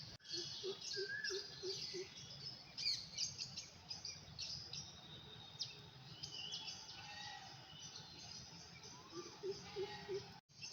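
Birds chirp and tweet in repeated short calls at a bird enclosure in Sundarvan, a nature park. The calls are moderately close against quiet outdoor background noise, with no clear talk.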